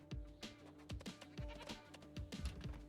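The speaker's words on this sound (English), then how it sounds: "And we're gonna kill that goat." A goat bleats repeatedly in the medieval colony-survival game Going Medieval, several wavering, nasal calls in quick succession, clear and close with no talk over them.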